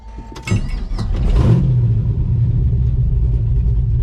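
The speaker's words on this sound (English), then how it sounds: "Let's fire her up and go for a ride." A car with a T56 Magnum manual gearbox starts up: a short cranking burst, then the engine catches with a loud low rumble and settles into a steady, deep idle close by.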